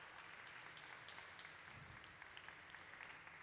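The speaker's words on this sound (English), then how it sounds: "Can we have a round of applause?" Applause follows a hot-glass glassblowing demonstration at the Museum of Glass, a steady patter of many hands, faint and distant throughout.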